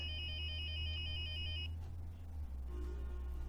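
A mobile phone ringtone in the Star Stable video game, a bright electronic repeating tone that plays for under two seconds and then cuts off, leaving a low steady background hum.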